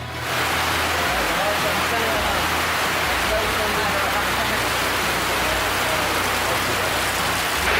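Steady heavy rain pours at Ciudad Perdida in the Colombian jungle, a dense, unbroken hiss, close and loud throughout, with faint low rumbles beneath.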